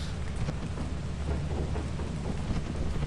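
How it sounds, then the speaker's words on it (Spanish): Steady rain with a low rumble of thunder in the video game Lethal Company, a dense, even wash of noise that holds constant throughout with no talking. "Está lloviendo."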